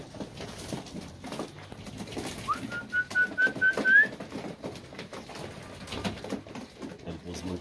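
Pigeons call and coo outdoors on a farm with goats amid a busy background of chatter and rustling, with a brief rising whistle-like call standing out in the middle.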